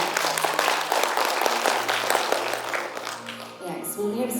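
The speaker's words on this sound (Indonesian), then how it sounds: "Boleh dong tepuk tangan yang meriah untuk kita semuanya." An audience at a large family iftar gathering of the Tyanda Group applauds, with dense clapping filling the room as a voice speaks over it before the applause thins out.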